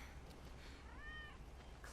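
A cat in Final Fantasy VII Remake gives a single soft, wavering meow at a low level over a steady background hum, with no talking over it.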